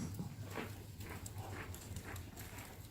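A horse walks during a riding lesson, hooves falling in a steady, faint clip-clop rhythm against a constant noisy outdoor background.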